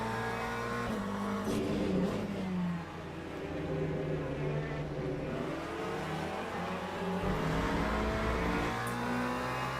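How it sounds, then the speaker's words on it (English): A wingless Peugeot race car in a sim racing game at Imola roars steadily, with engine notes climbing and dropping through gear changes and a brief dip in the middle, heard alone without commentary. "Here comes Wouter in a wingless Peugeot."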